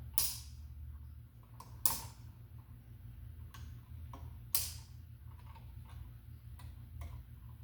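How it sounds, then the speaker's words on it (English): The lever on a wire connector is lifted and clamped down, giving a few faint, sharp clicks and small mechanical snaps in an otherwise quiet room. "you can't just push the wire in, you have to lift the lever up, push it in like that"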